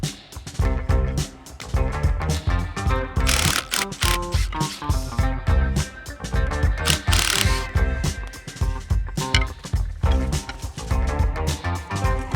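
A power driver whirs and ratchets in repeated close bursts, driving star drive screws during work on an old chair design, with dense mechanical clatter and no talk.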